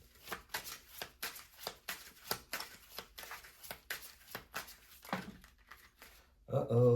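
Tarot cards shuffled by hand in a series of quick, crisp riffles and flicks repeating at a brisk rhythm, with a louder clatter at the end.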